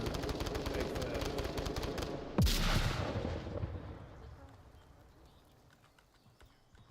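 Gunfire in the VR shooter Onward: rapid rattling shots that end in a sharp, loud crack with a long, fading tail, followed by quieter scattered noise.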